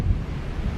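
Strong wind gusting across an exposed outdoor spot during metal detecting, a steady low roar of buffeting against the microphone with no voices.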